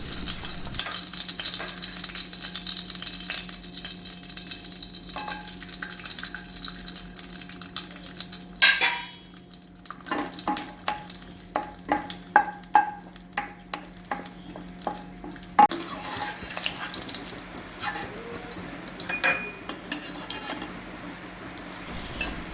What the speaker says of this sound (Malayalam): ആ നെയ്യൊന്ന് ചൂടായി വരുമ്പോഴേക്കും നമുക്ക് അതിലേക്ക് കുറച്ച് അണ്ടിപ്പരിപ്പ് വറുത്ത് പോരാം